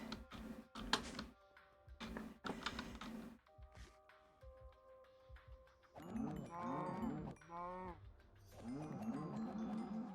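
Cows moo in the Minecraft video game, modded Vault Hunters edition. A run of sharp clicks and short game tones comes first, then several drawn-out bovine moos overlap loudly in the second half, with no talking.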